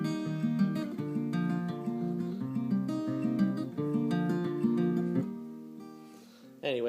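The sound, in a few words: Travis picking on guitar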